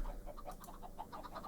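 A dense crowd of Minecraft chickens cluck in quick, overlapping bursts, steady and moderately loud, with no talking.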